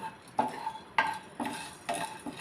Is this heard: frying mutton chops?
yes